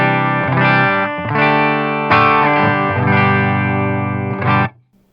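Electric guitar played through a VOX Valvenergy Silk Drive pedal with its bright switch engaged, a few loud sustained chords struck in sequence and ringing out before stopping abruptly.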